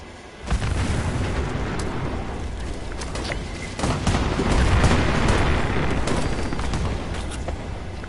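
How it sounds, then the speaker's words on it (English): Nuclear grenade explosion in Fallout 76, a sudden loud blast that swells into a long rumbling roar with crackling debris, growing heavier midway and staying loud to the end. "That's me throwing the nuclear grenade."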